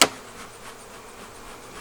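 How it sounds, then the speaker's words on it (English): Honey bees buzzing inside a hive, a sharp knock at the start followed by a soft, steady hum that carries on alone. "I can hear a lot of bees in there."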